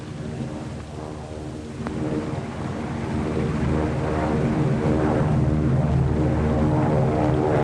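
A 1930s propeller airplane drones over an airfield, its engine rumble building and growing louder as it approaches and stays close.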